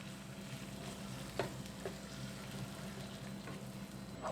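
Ham and mushroom sauce is stirred in a pan, a soft, continuous bubbling sizzle with a few faint spoon scrapes and clicks, fairly quiet and without talk.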